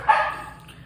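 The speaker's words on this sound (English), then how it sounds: "So you'll see them walking around, or you can hear the dogs barking." A single short dog bark rings out indoors at moderate distance and decays quickly into a quiet room, with no voices over it.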